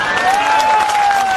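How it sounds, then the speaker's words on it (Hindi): An audience claps together in a dense, continuous burst of applause that stays loud and even throughout, with a sustained tone and faint crowd noise running beneath it. "पक्का सब लोग बजाइए ताली"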